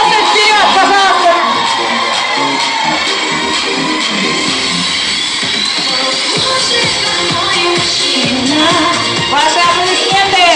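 Crowd at a children's summer camp show cheers, whoops and applauds continuously, a loud dense mix of shouting children and clapping with scattered voices throughout.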